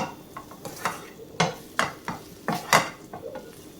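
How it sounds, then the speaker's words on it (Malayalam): Spoon scraping and clacking in a pan as sautéed onion is stirred into cooked tomato paste for an egg masala, a string of distinct close knocks and scrapes with no talk. "ഇനി നമുക്ക് ഈ വഴറ്റിയ ഉള്ളിയും കൂടെ ഇതിലേക്ക് മിക്സ് ചെയ്തെടുക്കാം."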